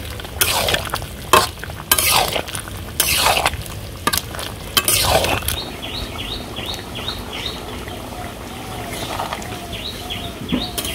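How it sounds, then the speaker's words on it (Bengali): Spice paste of cumin and garam masala is stirred into a young jackfruit curry, with loud repeated scraping strokes at first, then a lighter sizzle and faint chirping birds in the background, no talk. "বাটা দিয়ে এখন ভালো করে মিশিয়ে নিব।"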